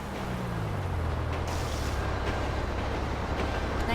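A truck in a video game drives along with a steady low engine rumble and road noise, continuous and fairly loud throughout, with a faint high whine above it.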